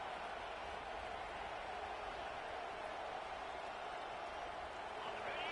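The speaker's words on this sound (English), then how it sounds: "This crowd is trying to inspire this defense to make a big red zone stop." A large crowd at a college football game against LSU roars in a steady, dense wash of cheering noise that holds without a break from start to finish.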